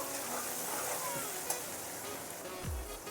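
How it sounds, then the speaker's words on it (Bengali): Chopped onion and two garlic cloves fry in a pan for a village-style country chicken curry, giving a steady close sizzle throughout with a brief clatter and a low knock near the end. "পেঁয়াজটা একটু ভাজা হোক"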